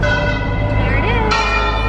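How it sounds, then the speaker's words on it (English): Church bells ring in an Italian town, their sustained tones sounding briefly and fairly close against a low background rumble. "the church bells are going off"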